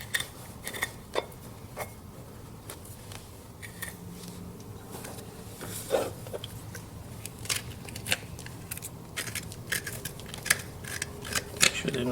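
Farrier trimming a horse's hoof with a sharp hoof knife, producing quiet scraping cuts and crisp snips at irregular intervals, close up over low background noise.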